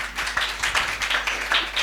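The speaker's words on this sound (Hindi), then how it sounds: "बजा सकते हो तालियां, कोई मसला नहीं" A church congregation clapping steadily, a continuous patter of many hands at moderate volume over a low hum.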